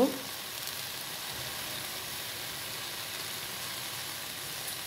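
Greens (ghetkol leaves) frying in a pan with salt, a steady close sizzle and hiss running throughout with faint stirring, no voices.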